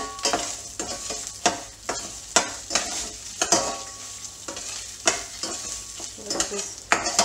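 Red and green chilies with chopped ginger roast in a pan for an Indian pennywort thogayal, giving a steady sizzle broken by repeated scraping stirs at an irregular rhythm, close and moderately loud, with no talking.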